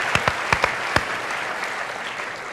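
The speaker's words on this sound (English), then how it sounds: "A round of applause for Willem." A studio audience applauding in honor of painter Willem de Kooning, a few distinct near claps at the start melting into a steady, continuous wash of crowd applause.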